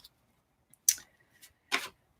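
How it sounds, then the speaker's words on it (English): Tarot cards are shuffled in a few quick, crisp bursts of riffling and flicking, close and fairly quiet, separated by short silent gaps. "I'm just shuffling the cards for you here."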